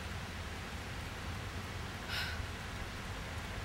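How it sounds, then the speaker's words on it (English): Heavy rain pours down outdoors in a steady, dense, even hiss that fills the whole stretch, with no talking over it. "Man, this rain is coming down."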